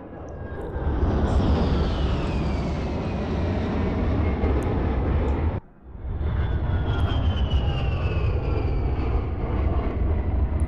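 A jet engine roars loud and steady in Battlefield 4, cutting out abruptly for a split second before the whine and rumble swell back in.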